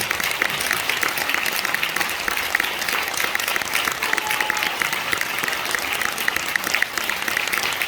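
A concert audience at a New Year music concert applauds the band, a loud, continuous wash of many hands clapping that holds evenly from start to finish with no talk on top.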